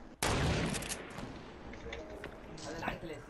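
Fortnite gunfire erupts in a sudden loud burst of shots followed by a rumbling, echoing tail and a few scattered later hits, with a player's voice talking over it.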